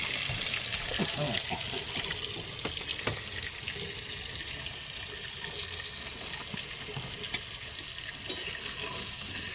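Water pours and splashes steadily into a pot of biryani cooking over a makeshift riverside fire in the Sundarbans, a continuous close wash of liquid with a few brief knocks and no voices.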